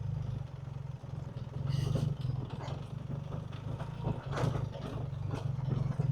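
A 2026 BMW R 1300 GS Adventure motorcycle climbs slowly over bigger rocks, its engine holding a low, steady rumble close up while clunks and clattering knocks from the rough ground break through.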